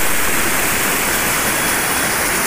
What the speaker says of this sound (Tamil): இப்போ வந்து மழைக்காலமாக இருக்கிறதுனால தண்ணி நல்லா ஸ்பீடாக போய்கிட்டு இருக்கு.